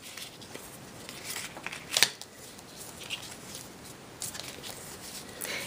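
Paper box flaps, cut from a die-cut tag box, being folded by hand: soft crinkling, rustling and creasing with one sharper crackle near the middle, close and moderately loud, no talking.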